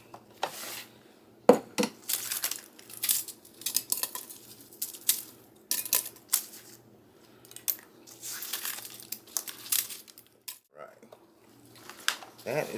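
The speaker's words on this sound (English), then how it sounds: "I'm going to put some in this half-gallon jar" Caramelized onions are spooned into a half-gallon glass jar, giving repeated clinks, scrapes and soft taps of utensil on glass in an irregular rhythm, close and moderately loud, with low background hum.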